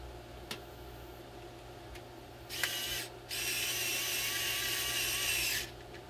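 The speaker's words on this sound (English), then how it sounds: "I'm only using a little 4-volt Hart drill" A small Hart 4-volt cordless drill drives screws back into a charger casing in two bursts, a short whir and then a longer steady whine, heard close up with faint ticking before it.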